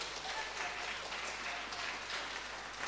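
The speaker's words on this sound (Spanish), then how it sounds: "Denle un aplauso a Jesús." Church congregation applauding during a Spanish-language sermon, a faint, distant, continuous patter of clapping heard through room reverberation.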